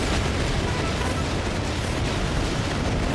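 Continuous dense roar of explosions blowing apart a group of infantry in the video game Battalion Wars 2, loud and unbroken for several seconds with no talk.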